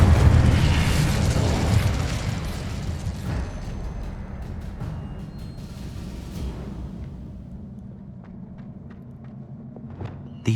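A big, close explosion from the Confringo fire spell in Hogwarts Legacy opens loudly, then a rumbling, crackling burn tails off over several seconds. Scattered small pops and debris ticks follow.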